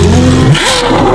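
A loud, close twin-turbo Ferrari F12 engine revs hard, pitch rising and falling through a brief roaring burst.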